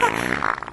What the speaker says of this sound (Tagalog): Umutot ka ba?